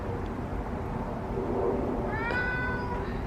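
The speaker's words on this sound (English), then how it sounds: "he's been meowing at me because he wants food" A hungry cat meows for food outdoors. One short, rising meow comes late, over a steady background hiss.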